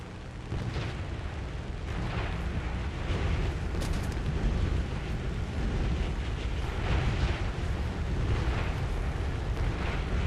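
Enemy destroyer shells exploding close by in War Thunder while a Supermarine Spitfire Mk.II flies low, a continuous rumbling roar with repeated heavy booms swelling through it.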